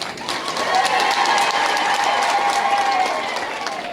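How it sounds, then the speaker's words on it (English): Dense crowd applause honoring the President at a youth engagement event, a steady wash of clapping, loud and sustained for several seconds, with some cheering mixed in before it tapers slightly at the end. "So you must applaud the President once again."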